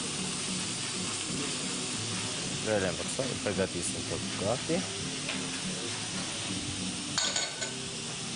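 Frying sizzle and hiss from a pan on a TV cooking show, with stirring scrapes and crackles running steadily underneath a person talking throughout.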